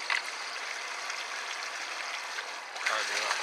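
A radio-controlled car ploughs through water in the desert, throwing up a steady, hissing rush of spray and splashing that stays fairly even throughout, then swells into a louder surge near the end.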